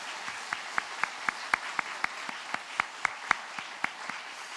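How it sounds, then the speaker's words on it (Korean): A church congregation claps in unison, about sixteen sharp, evenly spaced beats in a steady rhythm at a moderate distance over a soft room hush, with no talking. "함께 큰 박수로 축복하겠습니다."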